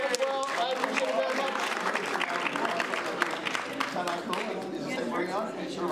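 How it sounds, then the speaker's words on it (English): An audience claps in sustained, dense applause that stays steady throughout, with voices chattering underneath. "Give everybody a round of applause."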